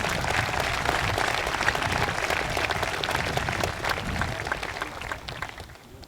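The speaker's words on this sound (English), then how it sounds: "I think that deserves a round of applause" A convocation audience applauds the senior class, with dense, sustained clapping that fills the space throughout and eases slightly near the end.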